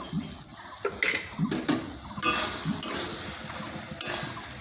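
Ghugni of coconut and dried peas stirred in a pot after adding garam masala, with a series of scrapes and clinks from a spoon against the metal, irregular and fairly close.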